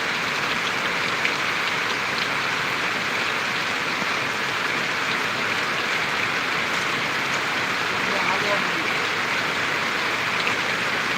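Heavy rain pours down on a farm field in a dense, constant roar of falling water, loud and unbroken throughout, with no voices.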